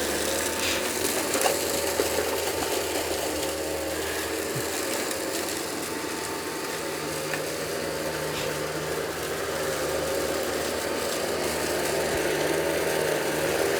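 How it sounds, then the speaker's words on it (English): Dyson 360 Vis Nav robot vacuum running over a wiry carpet, a steady mechanical whir and hum with faint ticking and rattling, continuous and even throughout. "what we need to do is to get the vacuum going and see how well it performs"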